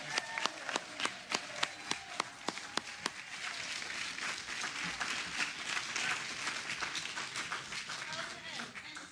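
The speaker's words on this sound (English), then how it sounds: "You can give them all a round of applause." Audience applause at a community gathering. A few sharp, separate claps open it, then it swells into a fuller, steady round of clapping that carries on to the end, with some low movement noise mixed in.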